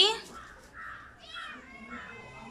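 A cat meows repeatedly in a home setting, several drawn-out cries in a row, mixed with a person talking.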